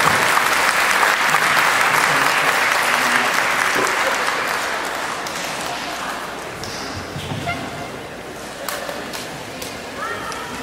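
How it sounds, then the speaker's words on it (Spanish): Audience applause for a speaker being welcomed at a conference on support for crime victims in the European Union, a dense sustained clapping from a full room that slowly thins out toward the end. "vamos a recibirlo con un fuerte aplauso"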